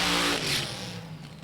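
A supercharged alcohol-burning Top Alcohol dragster at an NHRA drag race at Lucas Oil Raceway, its engine roaring loud and close at first, then fading away with a falling, rumbling tone.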